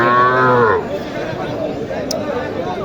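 A cow at a rural cattle market lets out one loud, close moo lasting under a second, followed by a low bed of crowd chatter and market noise with a brief faint high click.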